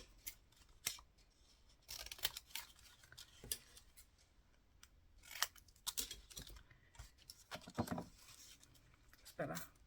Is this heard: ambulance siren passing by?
no